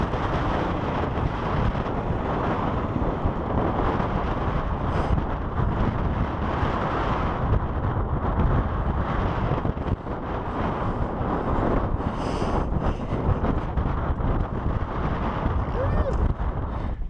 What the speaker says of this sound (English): just believe me when I tell you it's very windy